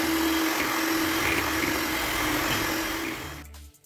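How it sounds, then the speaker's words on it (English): A steady, loud electric whir runs for several seconds as four eggs are beaten for a jackfruit cake batter, then winds down and stops near the end. "Now, take 4 eggs and beat it well."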